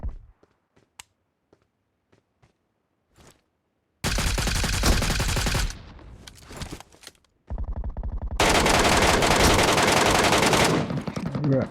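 Bursts of automatic gunfire and rapid shots from the battle-royale game PUBG Metro Royale, a few faint isolated clicks first, then two long, loud sustained volleys of machine-gun fire.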